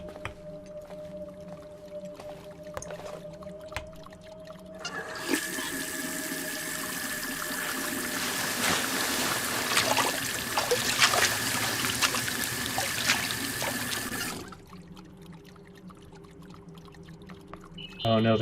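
Water runs steadily from a sink in the video game The Suicide of Rachel Foster, a loud continuous gushing stream that lasts about ten seconds and then cuts off, with a quiet hum before and after.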